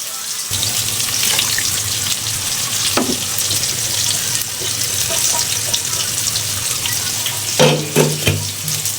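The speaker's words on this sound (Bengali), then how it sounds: "এখন দিয়ে দেব পানি পানিটা কিন্তু আমি গরম করে নিছি" Steady hissing sizzle as hot water is poured into a pot of hand-mixed vegetable khichuri, continuing throughout, with a few clanks of a utensil near the end.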